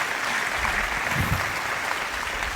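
Steady, dense applause fills a hall as a crowd welcomes lyricist Irshad Kamil at an Urdu poetry gathering honouring Kaifi Azmi, a continuous even roar of many hands with no voices.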